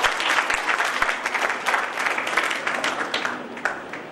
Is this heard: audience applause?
yes